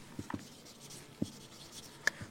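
Numbers being written by hand during a math lesson on recurring decimals, a few faint separate pen or chalk taps and strokes over a quiet room, with no talk.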